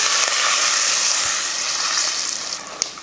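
Steady broadband sizzling of turmeric powder, asafoetida and curry leaves frying in hot oil, loud and close, continuous with a faint clink near the end.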